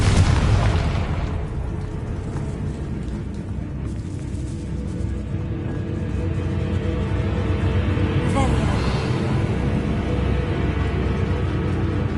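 A Confringo blasting-spell explosion in the Hogwarts Legacy video game, where spiders were bred: a loud, heavy boom at the start that decays into a long rumbling tail, with a second softer burst later.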